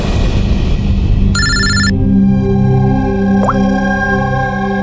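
A telephone rings once in a short, bright electronic burst at a police station in a crime drama, heard clearly over a low musical drone.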